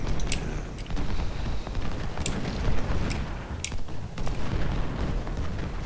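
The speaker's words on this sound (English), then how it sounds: "Lots of cannons firing." Repeated booming cannon shots in a video game recreation of the Civil War battle of Gaines' Mill, over a dense rumbling battle din, with sharp cracks scattered throughout and no pause in the noise.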